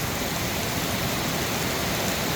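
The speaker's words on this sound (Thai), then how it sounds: "แต่ว่าฝนมา มันมันตกตั้งแต่เมื่อคืน" Heavy rain pours steadily in Mueang district, Uttaradit, a dense continuous hiss with no breaks and no voices.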